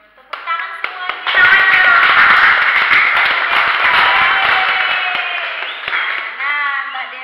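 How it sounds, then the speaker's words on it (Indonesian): Group applause in a nursing group-activity therapy role play, many hands clapping briskly and fairly loud after a few scattered claps, with voices mixed in. "Tepuk tangan semuanya."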